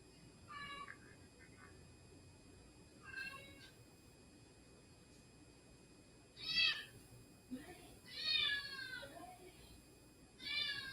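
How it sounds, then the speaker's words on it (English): A cat yells with a series of loud, drawn-out meows in irregular bursts, close by, with quiet gaps between calls. "Best Kitty is yelling"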